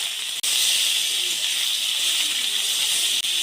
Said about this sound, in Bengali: তেলটা গরম হয়ে গেছে, এবার সেদ্ধ করে রাখা শোলা কচুগুলো হালকা ভেজে নেব।